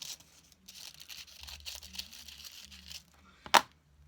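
Short stretches of quiet paper crinkling and snipping as scissors cut out a tattoo transfer paper design, ending in one sharp, louder rustle near the end, close by with no talk.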